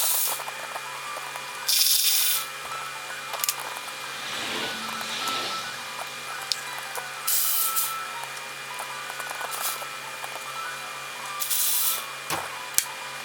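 A ratchet working 10mm shouldered bolts off the lower timing belt cover of a Toyota 3.4 engine: several short bursts of rapid clicking with rubbing and handling noise between them, close by and without speech.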